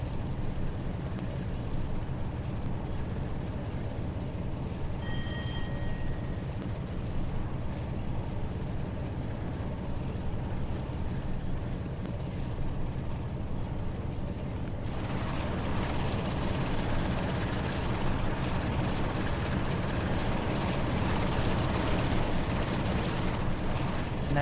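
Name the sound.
diesel locomotive engine in Train Sim World 2 video game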